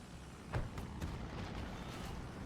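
Airstrike explosions in the World War II strategy game Men of War 2: a heavy booming blast rolls out, followed by a second burst a moment later, over a steady rumble of distant battle.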